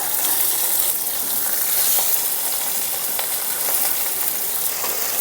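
Sliced onion and green chili fry in hot oil with a close, steady sizzle, a continuous crackling hiss with occasional stirring scrapes.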